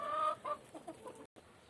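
A hen clucks softly in short, repeated bursts, close by, over a faint background hiss.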